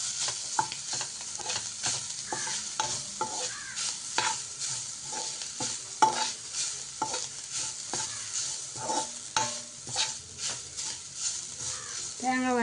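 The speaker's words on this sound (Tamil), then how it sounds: "தேங்காய் போட்டு நல்லா வறுத்து எடுத்துக்கலாம்." Ground coconut roasting in hot ghee for a mango laddu, a steady close sizzle broken by repeated scraping strokes of a spoon stirring the pan, with a few short bursts of voice.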